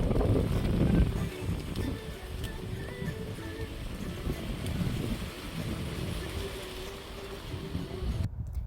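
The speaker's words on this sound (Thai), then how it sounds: "ได้ยินเสียงไหมลมแรงมากเลย" Strong wind gusts across a mountain-view tent campsite in Chonburi, Thailand, making a steady, loud, rumbling roar on the microphone that lasts the whole time with no talking.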